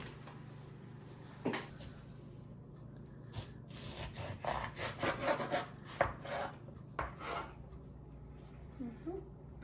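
A knife chops oranges, spinach and jalapeno for juice, making a run of short, crisp cuts and board knocks at close range, uneven in rhythm, with quiet room tone in between.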